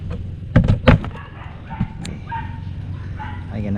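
A dog barks a few times close by outdoors in a rural neighborhood near a fishing spot, followed by whimpering and yips, with some faint voices and background noise.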